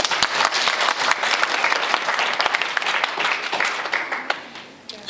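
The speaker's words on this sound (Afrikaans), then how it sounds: "Geef hom 'n ander klap." Sustained audience applause at a church gathering, dense and loud clapping from a crowd that fades slightly toward the end, with no talk over it.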